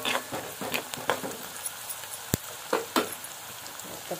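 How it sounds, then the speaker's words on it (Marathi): Leafy wild greens sizzling in an iron wok, with a spatula stirring and scraping in irregular strokes and one sharp metallic knock, close and moderately quiet with no talk. "शक्यतो लोखंडी कढईमध्येच पालेभाजी शिजवायच्या आहेत"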